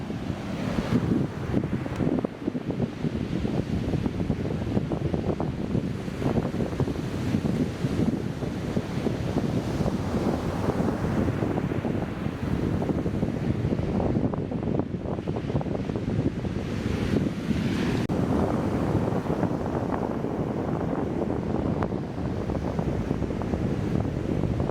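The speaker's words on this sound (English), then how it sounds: "The waves are wild." Wild ocean surf on the Skeleton Coast of Namibia near Cape Cross, loud crashing waves and a constant roar under heavy wind buffeting the microphone, with no talking.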